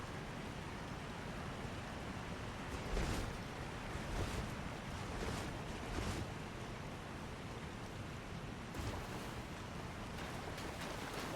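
A waterfall in the video game Elden Ring gives a steady, dense roaring rush of falling water that fills the whole clip without a break, and no one speaks.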